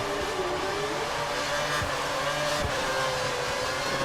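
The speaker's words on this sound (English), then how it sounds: "Down to first gear, just let it slide in." A Formula 1 car in Formula 1 2013 at Shanghai drops down to first gear, its engine whining continuously with pitch wavering across the shifts, plus a few faint low knocks under the steady roar.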